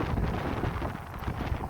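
Wind blows outdoors on a foggy day along a trail south of Tehachapi, a steady, rumbling gust buffeting the microphone with low roar throughout.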